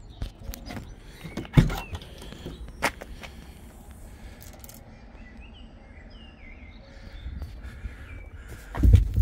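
The twin side loading doors of a 2017 VW Caddy Maxi campervan are worked, with sharp clunks and sliding thuds at intervals, quiet rustling between, and a louder bang near the end.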